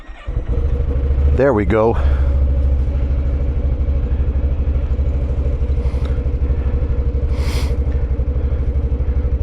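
A Can-Am Outlander 1000R Max XTP ATV engine cranks briefly and catches, then settles into a steady, close idle that runs throughout while a voice speaks over the start.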